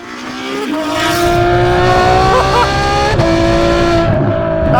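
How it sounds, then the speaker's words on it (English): A Ferrari F12 with a Novitec exhaust and naturally aspirated 6.3 litre V12 revs loudly up through the range, a rising harmonic howl that briefly drops and climbs again, close and unbroken. "We are of course driving an F12 with a Novitec exhaust."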